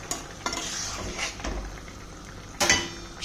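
Potol (pointed gourd), potato and spices being stirred in a pot, with scraping spoon strokes and a soft sizzle throughout, plus a sharper metallic clatter near the end.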